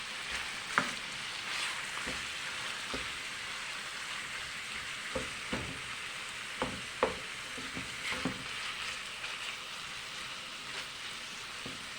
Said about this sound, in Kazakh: фаршымызды сковородкеге қуырамыз.